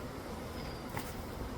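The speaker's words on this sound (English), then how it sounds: "Are you getting swarmed by bees, hon?" A swarm of bees being moved into a box makes a faint, continuous buzzing hum, a soft diffuse drone with a brief rustle near the middle.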